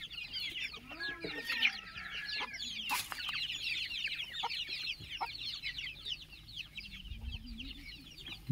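In a shed divided into separate pens, a hen clucks near her chicks amid constant high chick cheeping, a low throaty call now and then, fairly quiet and close, with a brief low rumble near the end.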